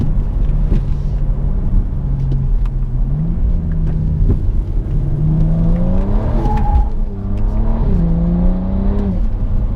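A 2018 Alpina B4 S engine drones steadily at speed, its pitch rising and falling as it accelerates and shifts, with tire and road rumble underneath.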